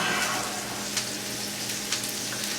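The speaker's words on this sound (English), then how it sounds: "So both are frying up. I'm actually surprised to see some sizzling that looks very meat-like on the Beyond Meat." A beef patty and a Beyond Meat plant-based patty frying side by side in a pan, giving a steady, close, continuous sizzle and crackle with a few sharper pops, no voices.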